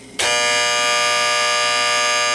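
A harsh, steady electric buzzer alarm from a vintage Sankyo Seiki mechanical digital clock starts abruptly after a brief quiet moment and keeps sounding continuously without a break.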